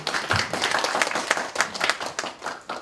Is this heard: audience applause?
yes